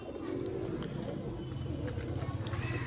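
Pigeons coo in a soft, repeated rolling rhythm close by, with several birds overlapping amid a low background murmur.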